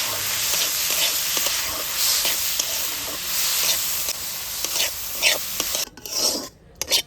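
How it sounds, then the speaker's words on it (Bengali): Drained moong dal stirred in a pan over low heat, a steady dry scraping rasp with a faint sizzle, spatula strokes repeating throughout and a few sharper scrapes near the end, close and without speech. "আগে থেকে জল ঝরিয়ে রাখা মুগ ডালগুলো হালকা আঁচে কিছুক্ষণ নাড়াচাড়া করে নেব"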